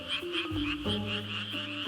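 An endangered Suwon tree frog calls continuously in a forest setting, producing loud, close, buzzing croaks that pulse rapidly without pause.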